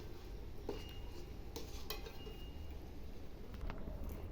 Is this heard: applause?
no